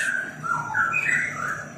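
An orange-headed thrush kept as a caged songbird sings a clear, loud run of bright whistled notes, sliding up and down in pitch, close and uninterrupted.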